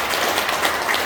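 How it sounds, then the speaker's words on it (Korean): Korean church congregation at a Philippines service clapping together, a brief, loud and even burst of many hands applauding at close range, with no talk over it. "자, 이순신 장군에서 박수 좀 한번"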